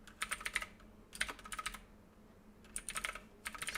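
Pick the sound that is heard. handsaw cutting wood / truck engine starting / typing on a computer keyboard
typing on a computer keyboard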